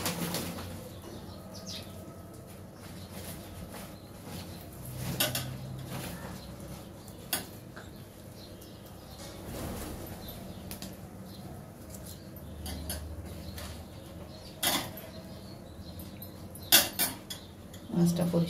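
Small pabda fish rubbed clean with a mesh kitchen scrubber: soft, uneven scraping and rustling close by at low volume, with a few sharper clicks and knocks from handling.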